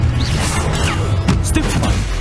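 Confringo blasting spell cast during a Hogwarts Legacy duel, a quick swoosh followed by crashing impacts, loud and close over busy combat effects.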